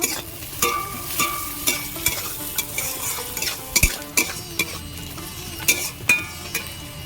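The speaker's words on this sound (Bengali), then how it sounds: "পেঁয়াজ কুচি দেব সেরা কাঁচা লঙ্কা দেব" Chopped onion and green chilli frying in a pan, a steady close sizzle broken by frequent sharp scrapes and clinks of a spatula stirring against the metal.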